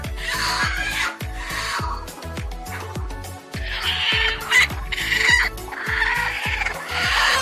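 Local chickens cluck and squawk in a noisy farm coop in Assam where hens are laying and brooding, with overlapping calls and a steady rhythmic mechanical thumping underneath throughout.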